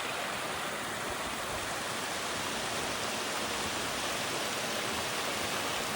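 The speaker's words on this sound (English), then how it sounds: "We'll stop and look at the waterfall again." A waterfall near an old mine pours with a steady, even rush of broadband water noise, constant and moderately loud throughout, with no voices over it.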